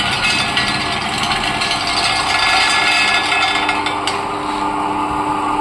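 An organic oil extraction machine presses groundnuts, its rod pushing the nuts forward. The result is a loud, continuous close-up mechanical grinding and whirring with a faint ratcheting texture and no talking.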